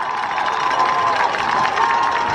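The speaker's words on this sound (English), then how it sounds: "And that gets the hometown crowd fired up." Hometown crowd at a semi-pro football championship game cheering and shouting in a sustained roar from the stands, loud and continuous throughout.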